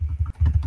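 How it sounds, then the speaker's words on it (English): Rapid clacking keystrokes of a vintage typewriter come through multiplayer voice chat in a flight simulator air traffic control session, loud, close and alone, with a brief pause midway. "somebody using a vintage typewriter"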